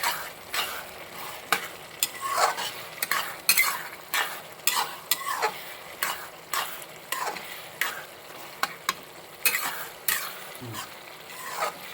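Pork curry fries in a pan while it is stirred, with rhythmic spoon scrapes and knocks repeating every second or so over a soft sizzle, close up with no talk.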